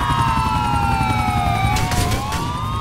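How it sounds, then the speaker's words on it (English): Police car siren in a modded GTA IV with San Andreas vehicles, a loud, close wail sweeping up and down continuously over steady game engine rumble, with brief crackling bursts near the end. "There's the police car right there,"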